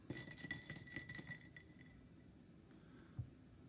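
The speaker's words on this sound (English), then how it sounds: "Stir it properly." A drink being stirred in a glass, giving a quick run of bright clinks as a spoon taps the sides, followed by a quieter pause and one last soft tap, close and faint, with no talking.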